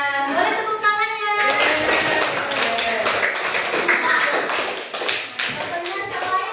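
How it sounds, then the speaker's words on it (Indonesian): A classroom of children claps their hands: a dense, lively patter of many close, sharp claps that starts after a brief spoken cue and carries on steadily to the end. "Boleh tepuk tangannya."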